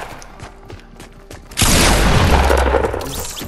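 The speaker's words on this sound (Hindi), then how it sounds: "मेरे पास एक ही रॉकेट है, मैंने खड़का देना।" A rocket launcher explosion in a video game: faint clicks and movement, then a sudden loud blast with a dense rumbling tail that fills the rest of the moment.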